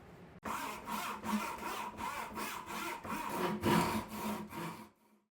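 A hand saw cuts across the grain of walnut for pocket knife scales, about ten rapid, even rasping strokes, close and clear, ending abruptly, with no speech.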